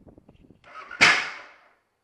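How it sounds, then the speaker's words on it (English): A single sharp backfire bang from a Kawasaki KLR650 motorcycle engine, loud and close, with a short ringing decay after faint tapping sounds. "I guess it was just a little backfire"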